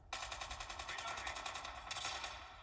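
Rapid automatic gunfire from a weapon in Call of Duty Mobile, played on an Android device with a controller, rattles off in one long sustained burst of evenly spaced shots, then a brief second burst, loud and close.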